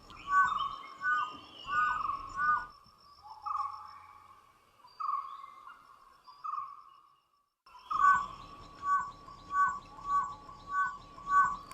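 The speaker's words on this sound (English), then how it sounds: "Known as the Whistling Hunters, the dhole cannot bark the way dogs do." A dhole, the Asian wild dog, gives repeated high whistling calls in quick rhythmic series, moderately close, with a quieter stretch of sparser whistles in the middle before the calling resumes.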